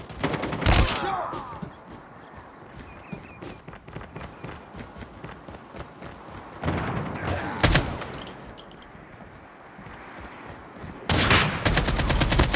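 Gunfire in the mobile game Call of Duty Mobile on a firing range: sharp shots and rapid bursts with running footsteps between them, the loudest volleys at the start, middle and end.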